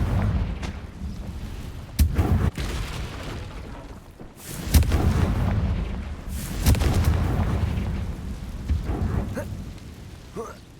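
Confringo fire spell explosions in the Hogwarts Legacy video game, several heavy booming blasts with rumbling low ends at irregular intervals, loud and close, with a voice speaking at times.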